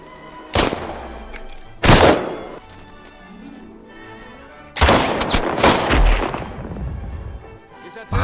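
Gunfire in the 2017 war film The Captain as a prisoner is forced to shoot: loud sharp bursts of shots, two separate reports early, then a denser sustained volley in the second half, with some voice in between.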